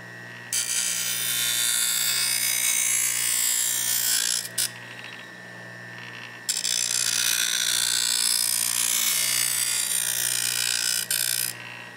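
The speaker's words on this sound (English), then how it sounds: "I've adjusted it to grind the bevel on the back" A rusty drawknife bevel is ground on a sharpening machine, a loud steady grinding hiss over a low motor hum, briefly dropping away twice as the blade lifts, then resuming.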